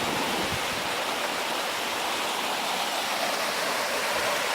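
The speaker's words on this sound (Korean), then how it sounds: "여기서 물이 이렇게 떨어지는데" A waterfall in Ssanggok valley pours in a steady, even rush of falling water, a close, continuous broadband hiss with no voices over it.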